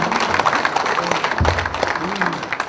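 Audience clapping at a Korean party women's committee gathering, scattered and uneven, mixed with voices and room murmur.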